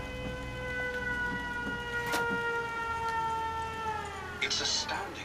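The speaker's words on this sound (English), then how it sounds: "Those are the sirens on top of the front tower." Sirens mounted on a settlement tower in Fallout 4 sound a long steady wailing tone that slowly falls near the end, quiet and distant beneath soft game background noise.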